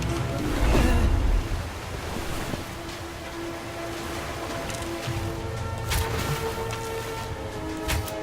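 Rushing water in the King's Quest video game, a steady broadband roar of flowing water and surf-like wash with a brief louder surge near the start, with no talking.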